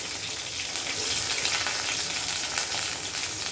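Sliced onions frying in hot oil at the start of a ridge gourd and potato curry with tengra fish, giving a close, steady, hissing sizzle throughout with no one speaking.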